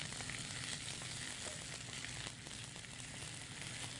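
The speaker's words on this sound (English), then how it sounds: "So I'm going to cook those onions for a little bit." Onions fry in a pan as part of a Greek dinner of spinach and cheese triangles and lamb meatballs, with a steady, soft sizzle and faint crackling throughout.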